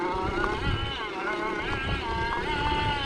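An Electric Motion Epure electric trials bike creeps slowly on the clutch with no throttle, giving a close, wavering whine that rises and falls over wind and outdoor noise.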